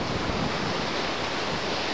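A very large river in Raisen district flows with a steady, dense broadband rush of water, loud and continuous with no breaks.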